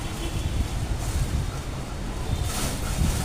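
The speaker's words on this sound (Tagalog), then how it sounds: "Grabe ang hangin, lakas." Strong gusting wind roars steadily in Vietnam during windy weather, buffeting the microphone with a low, continuous rumble that swells near the end; no voices are heard.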